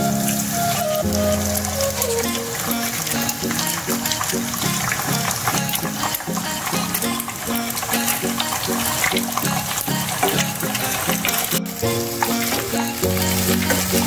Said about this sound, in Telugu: బ్రౌన్ కలర్ వచ్చే వరకు వీటిని ఈ సాసెస్ని మనం ఫ్రై చేసుకుందామండి